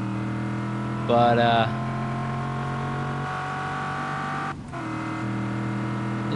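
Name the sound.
car driving and revving in video game Just Cause 3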